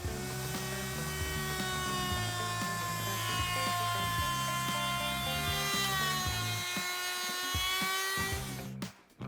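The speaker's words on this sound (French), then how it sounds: "Je me suis décidé pour la défonceuse et je vais maintenant insérer la fraise appropriée." A wood router cuts a chamfer along the edge of a wooden key board, a steady high whining motor with a cutting tone, continuous and fairly near, winding down abruptly at the end.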